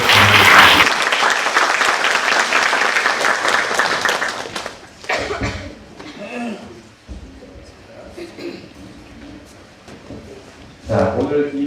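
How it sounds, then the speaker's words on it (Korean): Audience applause welcoming the moderator of a Yongin mayoral candidates' social welfare policy debate in a hall, loud and dense for about four seconds, then fading into scattered claps and room murmur before a brief renewed burst near the end. "교수님 앞으로 나오실 때 큰 박수로 환영해 주시기 바랍니다"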